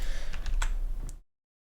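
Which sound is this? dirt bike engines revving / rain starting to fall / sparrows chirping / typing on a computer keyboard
typing on a computer keyboard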